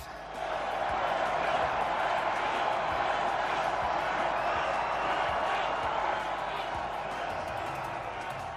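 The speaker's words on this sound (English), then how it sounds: "The crowd chanting Franco" A dense, steady roar from a packed stadium crowd at a Pittsburgh Steelers football game, chanting for Franco during a number-retirement ceremony, distant and continuous with no clear individual voices.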